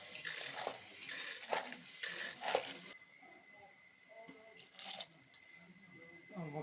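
About two cups of water are poured into a pot for cooking soaked green gram. The splashing comes in a few faint bursts, followed by quieter kitchen sounds.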